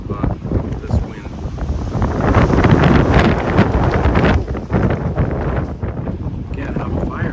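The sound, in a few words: strong wind at spring lakeside camp on Georgian Bay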